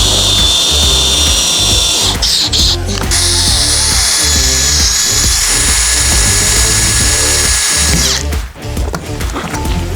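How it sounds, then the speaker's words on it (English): A loud, close power drill bores holes into a metal channel while building a large double-decker tiny home, with a steady high whine and ratcheting grind that stop abruptly near the end. "So I'm just gonna make some holes in here and locate where we're at,"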